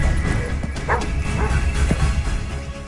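Dogs bark somewhere off in the distance as three men approach. The barks are short and scattered, sitting under a steady, noisy background.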